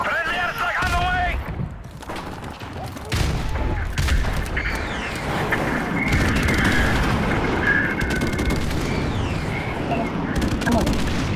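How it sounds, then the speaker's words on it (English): Friendly airstrike explosions in Call of Duty: Modern Warfare Remastered multiplayer, heard as loud, dense booms and gunfire bursts rolling almost continuously, with brief voices over the battle noise. "Friendly airstrike on the way!"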